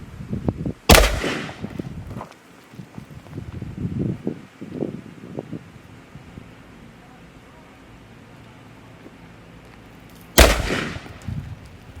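Two loud, close AR-15 rifle shots crack out at a head target outdoors, the first early on and the second near the end, with talking and light outdoor rustle in between.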